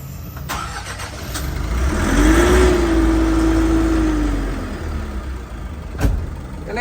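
Diesel engine of an Adiputro Jetbus bus with an AC unit fitted, cranking and starting loudly, rising into a rumbling idle that settles and holds, with a sharp click near the end.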